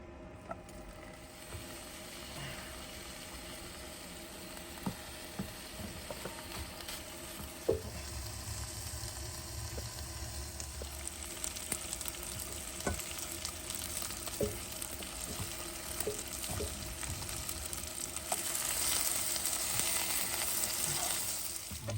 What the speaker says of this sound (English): cutting the bacon in half makes it much easier to cook, especially in a small pan. First thing, we're gonna put our bacon in.